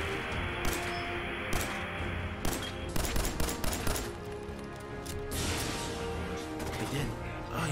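A Sentry Bot fires in Fallout 4: rapid, loud bursts of gunfire crackle in close succession over several seconds, and a voice talks through the shooting.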